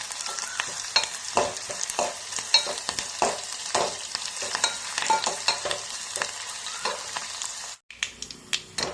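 Mustard seeds and curry leaves with dried red chillies sizzle and crackle in hot tempering oil for a village-style plantain and dal curry, with steady frying hiss, sharp pops and stirring scrapes, close and fairly loud, then a brief pause and more crackles.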